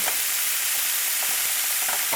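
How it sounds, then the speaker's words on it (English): Steady, hissing sizzle of broccoli frying in a hot pan, a dense crackle throughout with a few faint clicks of stirring. "The broccoli's almost pretty much done frying."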